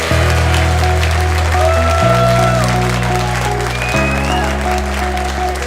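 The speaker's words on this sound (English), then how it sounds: "We have another round of applause" Audience applause at a speakers' event, clapping over a loud, steady music bed with sustained chords and a melodic line carrying on throughout.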